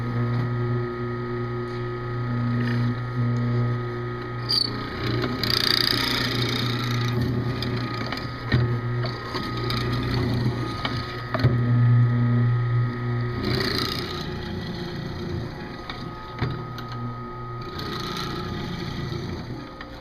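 Router or mortising machine cutting angled mortises into a tapered wooden table leg, a steady motor hum with rising bursts as the bit bites the wood, fairly close and continuous with no talk.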